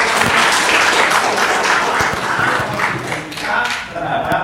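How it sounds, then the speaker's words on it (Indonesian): Students and teachers in a classroom clap at the close of a school presentation, a dense burst of applause with scattered louder claps and thumps that thins out toward the end. "Oke, tepuk tangan dulu."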